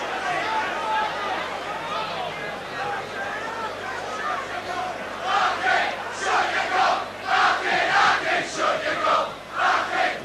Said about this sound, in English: You can hear what the Leeds crowd think of that